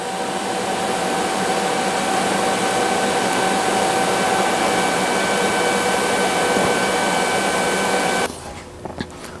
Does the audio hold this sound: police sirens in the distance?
no